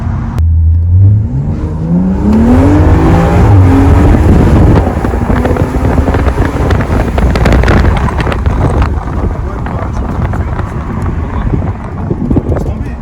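Tuned BMW M235i accelerating hard, the engine note climbing steadily through a rising pull with heavy wind roar inside the cabin, loud and close, with a voice over the start.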